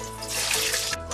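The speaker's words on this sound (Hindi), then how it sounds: "चलिए अब इसे तेल में फ्राई कर लेते हैं।" Bitter gourd pieces fry in hot oil, giving a brief, close, continuous bubbling hiss that sounds watery and lasts just over a second.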